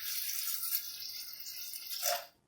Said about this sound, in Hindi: 2 गिलास के करीब हम पानी ऐड करेंगे।